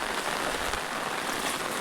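Heavy rain pours steadily over a chilli field, a dense, even hiss of drops striking plants and standing water, close and constant throughout with no voices.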